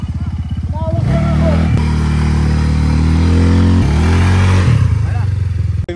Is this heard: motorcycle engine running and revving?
yes